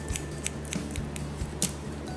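Scissors snip hair while cutting a shoulder-length bob, a rapid series of crisp, close blade closings over a steady low background hum.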